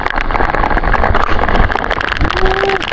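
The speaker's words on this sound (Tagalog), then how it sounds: "Mga buddy, ang lakas na naman ng ulan." Heavy rain pours down in a steady broadband rush, with a low rumbling hum underneath and a brief tonal whine near the end.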